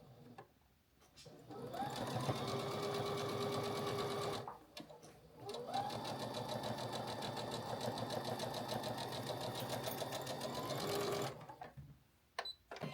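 A sewing machine chain-pieces a charity quilt block in two long steady runs of fast, close stitching, with short pauses and a little faint talk between them.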